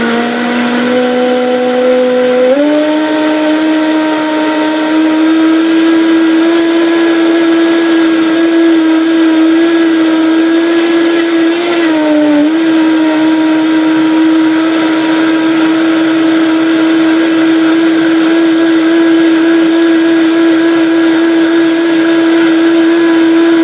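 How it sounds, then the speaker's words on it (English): A blender churns liquid and leafy greens for a green shake, roaring loudly and continuously at close range, its motor pitch rising once early on and dipping briefly midway. "the greens take a little bit of work for this blender to do its job"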